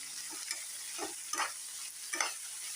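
Spicy chilli mushroom gravy ingredients being sautéed in a pan, with a steady bright sizzle of frying and a few separate scraping stirs of a spoon, close and clear with no voices.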